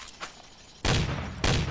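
Double-barrel shotgun fired in Garry's Mod: two loud, close blasts about half a second apart, each with a short rumbling tail, after a faint click.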